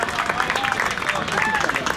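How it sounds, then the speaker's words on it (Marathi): Crowd applause at a local cricket league match between Raigad Lions and Lohgad Royals, a steady clapping wash lasting the whole moment beneath a commentator's voice. "टाळ्या झाल्या पाहिजे"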